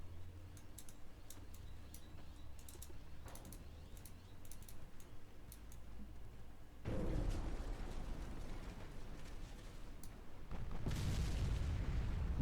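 Torpedo hits and explosions strike a warship in the naval game Ultimate Admiral Dreadnoughts: after quiet clicks and ambience, a heavy rumbling boom swells in, followed by a second louder blast rolling on to the end.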